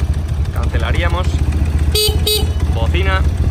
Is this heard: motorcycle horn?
yes